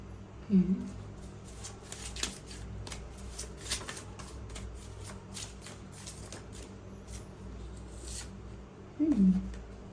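Tarot cards are shuffled at close range in a few quick riffling bursts, one at the start and another near the end, with softer card handling in between and a quiet voice in the background.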